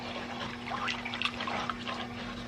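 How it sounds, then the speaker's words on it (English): A cup of water is poured into a Dutch oven of beef stew, giving a continuous close splashing, trickling flow that runs steadily throughout with no talk. "A cup of water."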